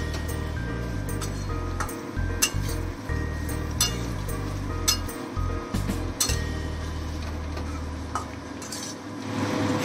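Vegetables are stir-fried in oil for veg hakka noodles. A spatula scrapes and clinks against the pan in an uneven rhythm over a continuous close sizzle, and the whole passage lasts about ten seconds.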